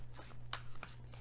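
Tarot cards are shuffled quietly in the hands, giving soft rapid riffles and a few sharper snaps over a low background hum.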